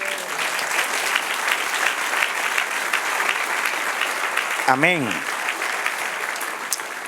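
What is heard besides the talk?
church congregation applause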